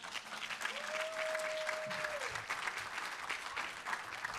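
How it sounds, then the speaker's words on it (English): Steady audience applause for forum panelists fills the whole stretch, dense and sustained, with a brief tonal whistle-like sound riding over it in the middle. "If y'all want to give these panelists a round of applause."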